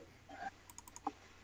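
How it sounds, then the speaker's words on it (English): Computer mouse and keyboard clicking at a gaming podcast setup, a handful of quiet, sharp clicks scattered irregularly over a faint background hum, with no talking. "Now you're gonna hear me clicking and stuff like that for a minute"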